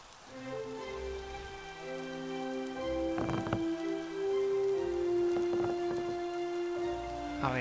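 Rain falls steadily in the video game Younder, a soft continuous patter with a few brief louder splashes, playing over a sustained musical drone with no talk.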